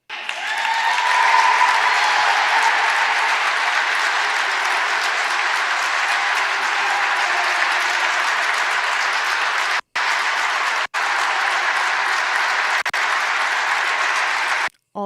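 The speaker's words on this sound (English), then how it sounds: "all the clapping. They love it." Steady, loud audience clapping fills the space as one continuous crowd wash, broken by two brief dropouts near the end.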